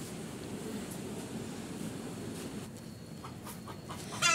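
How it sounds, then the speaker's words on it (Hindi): Hens clucking outdoors on a farm near where eggs were laid, a steady low cackling texture under broad rustling background noise, with a few sharper calls near the end. "और ये रही एक और मुर्गी,"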